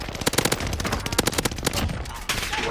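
Rapid machine-gun fire in Warzone rattles off in dense, repeated bursts, loud and close, with a brief pause near the end before firing resumes.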